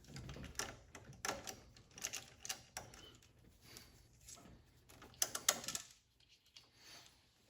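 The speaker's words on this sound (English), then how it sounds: "Now I can remove the battery terminal from the alternator." A battery terminal is being removed from a Mustang alternator, giving faint, close ratcheting clicks and small metallic rattles in irregular bursts, then a short, quieter pause.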